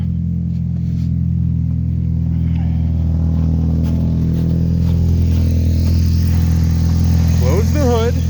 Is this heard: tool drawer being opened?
no